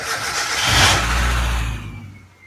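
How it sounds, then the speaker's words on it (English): A Mazda Miata engine cranks and fires on a test start after belt work, surging up loudly with a broad roar before settling and fading toward a quieter idle, with no belt squeal. "Here's a test start."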